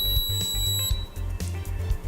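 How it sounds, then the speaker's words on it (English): A steady electronic alarm tone from an aquarium sump controller sounds continuously, with a high pitched whine and repeating low pulses, fairly loud and close. "and the alarm will sound."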